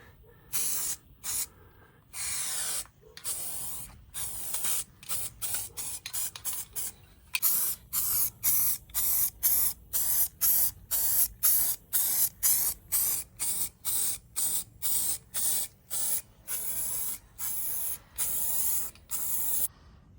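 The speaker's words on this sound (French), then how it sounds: "Donc là on nettoie l'embranchement du pistolet, comme vous pouvez le voir." Spray gun being cleaned during a vintage fuel pump restoration, firing loud repeated bursts of hissing spray in a fast on-off rhythm, close up, with no talk.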